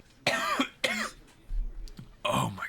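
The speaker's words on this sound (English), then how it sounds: "It's like 70 coughs" A person coughing and clearing their throat while sick, with a few harsh, close bursts in quick succession, the last one louder and raspier.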